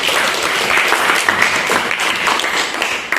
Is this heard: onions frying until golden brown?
no